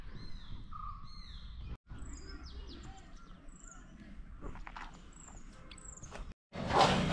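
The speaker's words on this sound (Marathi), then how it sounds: "पक्षी वगैरे." Several birds call and chirp in a jungle near Pawankhind, with varied whistled and warbling notes scattered over steady forest ambience and a louder rush of noise at the end.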